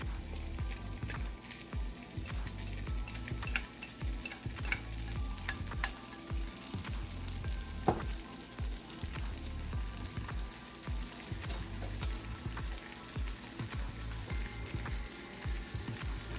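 Navy beans cooking in a skillet for homemade baked beans, giving a steady close sizzle with frequent scraping stir strokes and light clatter throughout, no voices.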